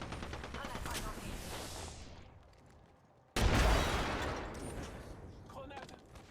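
Gunfire from the video game Apex Legends crackles in rapid bursts that fade away, then a sudden loud close burst erupts and decays again.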